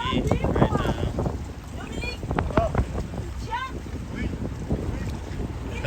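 Strong wind gusts buffet the microphone in a bay, roaring under people talking and calling out near a dinghy, with faint water sloshing against the boat.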